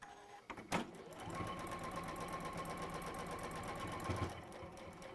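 A sewing machine seams fabric pieces together in one steady run of fast rhythmic stitching with a constant motor whine, close and even, starting after a brief handling thump and stopping cleanly, with no talking.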